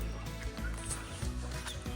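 Chickens cluck and call repeatedly close by, overlapping throaty calls in an uneven rhythm with a low background rumble.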